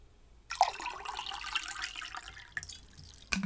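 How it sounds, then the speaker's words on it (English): Water poured into a glass with a splashy, bubbling stream lasting about two seconds, close and fairly loud, ending with a light clink. "Just pour myself a little more water."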